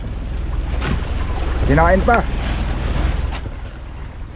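The engine of a tuna fishing boat heading back to port at sea drones steadily and low under wind and water noise, with someone speaking briefly over it.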